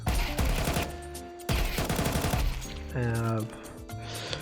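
Automatic AR rifle fire in the Counter-Strike 2 video game, loud close bursts of rapid shots in quick succession with short pauses, with someone talking over parts of it.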